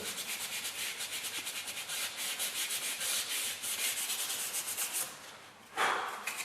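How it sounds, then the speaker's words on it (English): Sandpaper rubs by hand over MDF trim in quick, rhythmic back-and-forth strokes, a bright scratchy hiss that pulses steadily before a brief pause and a final heavier stroke, close and fairly quiet. "we just take our sandpaper and sand it down to the exact shape"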